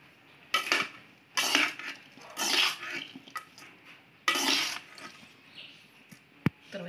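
Spoon scraping and clattering against a pan in which fish was fried, mixing in cooked rice: several short, fairly close bursts of metallic scraping separated by quieter pauses, with a sharp clink near the end.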